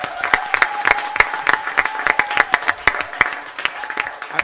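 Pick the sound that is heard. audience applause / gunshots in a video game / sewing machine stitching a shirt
audience applause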